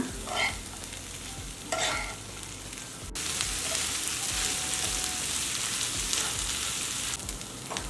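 Ivy gourd curry with ground masala frying in a pan while being stirred, a steady close sizzle broken by repeated scraping strokes of a spoon against the pan, with a sharp clink partway through.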